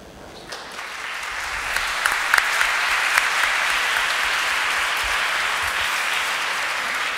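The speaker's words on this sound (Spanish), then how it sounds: "extendamos el aplauso para ambos expositores" Audience applause closing an academic session on digital society, rising quickly and sustained as dense, even clapping from a room full of people, with no voices over it.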